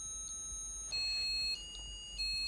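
A pop-up book's electronic chip plays the Casablanca tune as a thin string of steady, beeping tones that step between pitches, fairly clear and alone.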